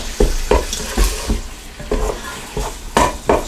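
Onion browning in a Ninja Foodi pot, stirred with repeated scraping strokes over a steady close sizzle, with no voices.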